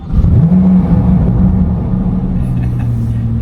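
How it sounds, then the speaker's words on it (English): 2023 Corvette C8 Z06 with the 3LZ package starts up indoors in a warehouse: a quick whirring crank, a loud booming flare of revs, then a steady deep idle rumble, close and resonant. "Got to listen to the way this thing sounds on startup."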